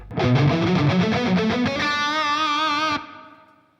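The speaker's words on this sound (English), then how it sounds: "So here it is with the color all the way down." Electric guitar chords strummed through a Dunable Eidolon pedal's reverb with the color knob all the way down, warm and darker, then a ringing chord that sustains and cuts off, leaving a short fading tail.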